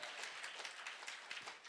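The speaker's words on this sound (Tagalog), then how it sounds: "Malakas ang palakpak para sa Diyos sa buhay." A church congregation at an El Shaddai prayer gathering in Sharjah, UAE claps for God, a steady wash of applause from many hands sustained throughout without talk.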